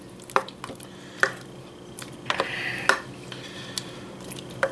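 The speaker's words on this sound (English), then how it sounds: "And we're just going to stir this together." Meatball sauce being stirred in a crockpot: a quiet, wet stirring with several sharp spoon knocks and clinks against the pot, irregular and close, with no talk.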